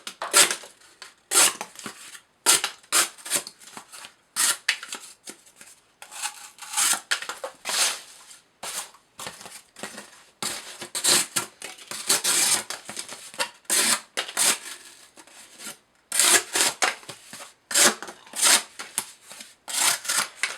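A Spyderco Endura with a VG-10 blade slicing repeatedly through cardboard, a rapid series of crisp scraping cuts in uneven bursts, close and fairly loud with short pauses between strokes.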